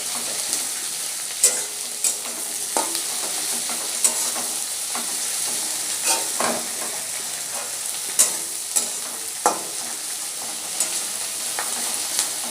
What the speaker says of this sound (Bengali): এবার আমি এটা একটুখানি ভাজা ভাজা করে নেব